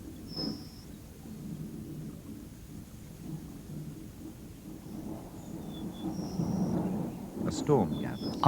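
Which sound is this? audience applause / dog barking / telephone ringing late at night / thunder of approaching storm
thunder of approaching storm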